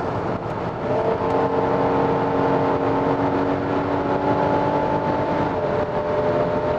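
While a Hyundai Palisade with a 3.8 V6 is driven, a steady engine drone and road roar fill the cabin. The tone is continuous and loud, with a faint rise in pitch, and no voices can be heard.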